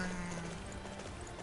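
Horse hooves clip-clop in Dynasty Warriors 9, with a whinny among steady in-game galloping noise, moderately loud and continuous over a low hum.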